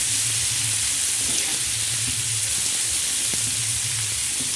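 Green chili, onion and tomato fry on a hot griddle, giving a steady, close sizzle throughout with a few soft scrapes and stirs, and no talking.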